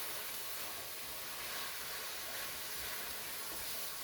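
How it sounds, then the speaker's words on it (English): Onions caramelizing in a pan give off a steady, even sizzle, a constant soft hiss with no talk over it. "You hear that sizzle, right?"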